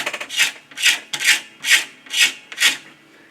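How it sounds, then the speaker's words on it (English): A scraper is drawn over the finish of a cittern, six rhythmic rasping strokes at an even pace, close and fairly loud, with no talking. "where I am scraping. So I can take this basically all the way down to the thickness of the tape above the finish"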